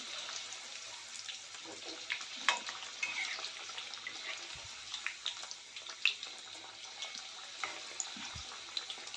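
Alu vadi slices frying in a pan, a steady soft sizzle with small crackles and pops running throughout at moderate level, with no voices.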